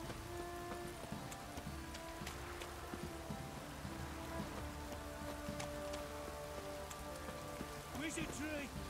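Steady rain pattering on surfaces in the video game The Witcher 3, a constant soft hiss with scattered drips, joined by faint horse hooves clip-clopping briefly near the end.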